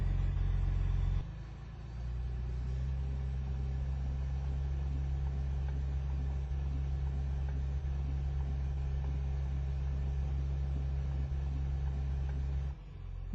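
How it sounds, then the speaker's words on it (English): A John Deere Hitachi J-Series dozer moves forward, giving a steady low diesel rumble with a constant deep hum, loud and sustained after a brief change at the start, with no talk. "and the machine moves forward."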